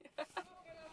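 A big rooster on a Mexican mountainside giving two short, faint clucks, quiet and brief over a soft outdoor background.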